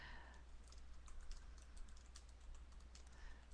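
Typing on a computer keyboard, a steady stream of quick, light key clicks at close range, running throughout with no talking over it.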